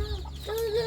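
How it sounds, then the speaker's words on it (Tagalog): Chickens give a brief, faint cluck and low warbling call close by over a low background hum, lasting about a second. "Chicks."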